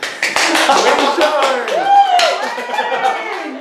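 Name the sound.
applause from meeting audience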